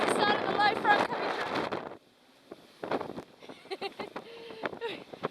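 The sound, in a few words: strong wind on a racing sailboat at sea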